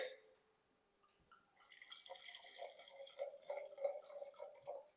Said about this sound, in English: So let's pour a glass first.